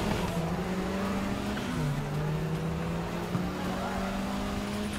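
Race car engines drone steadily in Need for Speed Heat, with a sustained mid-pitched whine that dips in pitch partway through as one car shifts, busy and continuous under a faint game background.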